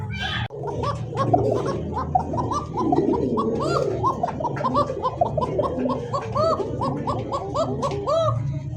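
Several Coca pigeons coo together in a dense, continuous chorus of repeated rounded calls, close and fairly loud, with background bustle and a steady low hum throughout.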